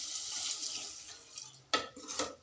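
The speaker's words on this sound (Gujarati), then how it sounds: "હવે આમાં 1 ગ્લાસ પાણી નાખીશું." A glass of water is poured into a frying potato curry, first a soft hiss, then a sudden splashing gush near the end, heard close and alone.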